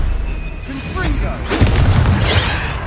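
Confringo fire spell in the Hogwarts Legacy video game: a booming, shattering blast erupts midway through, preceded by whooshing magical effects and a character's shouting voice.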